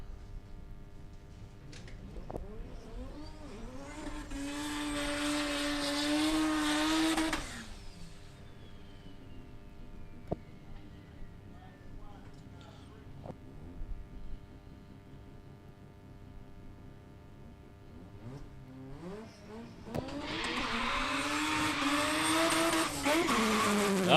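A Mazda RX-7 drag car with a 13B rotary engine races down a drag strip. Its engine rises in pitch, then the sound falls away, and a second loud run builds near the end.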